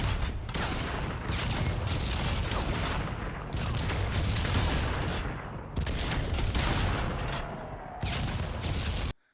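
Trifire pistol gunfire in a video game comes as dense, loud rapid volleys of shots in four sustained bursts, each broken by a brief pause, with no talking over them.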